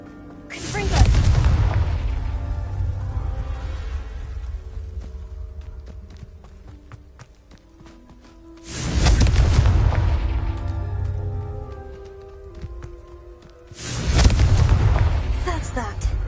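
Three heavy booming blasts of an explosive spell in a video game, each a loud broadband impact with a long rumbling, crackling decay, spaced several seconds apart.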